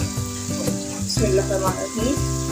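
Potatoes frying with tomato paste in a pan for a dhaba-style aloo gobhi, a steady close sizzle with stirring scrapes and a faint background tone throughout.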